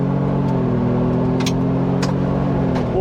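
A 2023 Ford Bronco drives an off-road trail, its engine droning steadily and loud at close range, with occasional clicks and rattles over the rough ground.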